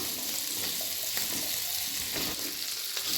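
Cashews and paneer sauté in a hot pan, giving a steady, close sizzle with faint stirring scrapes scattered through and no voices.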